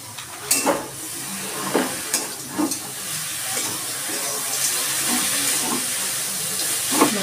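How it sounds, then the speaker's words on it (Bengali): Coconut filling with date-palm jaggery (patali gur) stirred in a hot wok, giving a steady sizzling hiss broken by irregular scrapes and clicks of the spoon. "আমি কড়াইতে দিয়ে দিচ্ছি নারকেলের সে পুরটা এখন বানিয়ে নিচ্ছি।"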